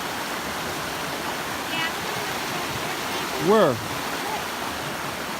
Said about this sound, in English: this creek seems to be doing pretty good